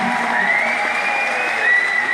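A large crowd in Ahoy arena applauds at a Surinamese music concert, a loud, sustained roar of clapping and cheering with a held tone running through it, swelling slightly near the end.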